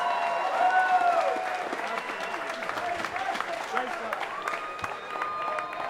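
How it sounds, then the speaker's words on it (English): A boxing crowd applauding both fighters at ringside after three rounds, steady clapping mixed with cheers while a ring announcer talks over it. "let's give both fighters a big round of applause"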